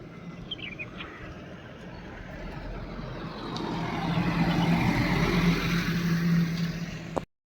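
A car carrying passengers to a village drives along steadily, its engine and road rumble building gradually to a louder, close hum before cutting off abruptly at the end.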